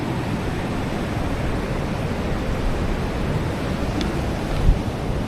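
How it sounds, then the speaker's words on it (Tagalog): Waves washing at a Bataan shore under strong wind, a dense, steady rushing roar with heavy wind buffeting throughout and no distinct breaks. "ang tataas ng alon"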